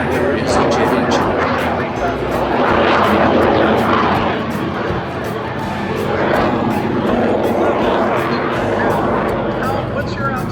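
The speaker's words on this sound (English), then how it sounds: "All you can hear is a jet engine." A loud aircraft engine roars steadily, swelling and fading in long waves as it passes, with a faint babble of voices in the background.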